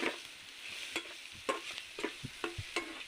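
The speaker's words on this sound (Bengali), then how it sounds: "নাড়া হয়ে গেলে" Kochu (taro) cooking with Kashmiri coriander powder and spices in a pan, stirred with repeated scraping strokes over a soft sizzle, close and fairly quiet, no talking.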